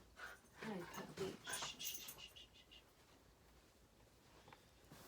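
A puppy named Jake panting and whimpering close by, a few seconds of soft breathy panting mixed with small whines, then quiet room tone, with a voice speaking nearby.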